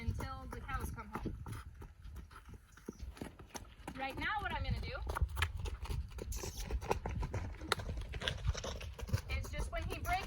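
Horse hooves thud in a steady rhythm as a horse drops from a canter back to a trot in a riding arena, fairly close, while a person talks over the footfalls.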